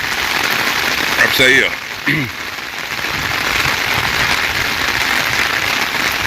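Steady rain patters down in a dense, even hiss while water begins running into storage tanks; a voice speaks briefly near the start over the continuous downpour.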